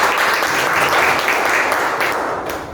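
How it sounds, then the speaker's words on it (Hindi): Loud audience applause fills a hall, a dense steady wash of many hands clapping that holds strong and tapers slightly toward the end, with no talking over it. "एक बार जोरदार तालियां।"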